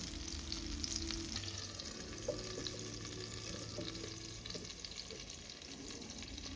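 Chicken rawa fry, semolina-coated chicken pieces, sizzling steadily over a low flame in a pan, a continuous moderate crackle with faint splashy, watery clinks in the background and no voices.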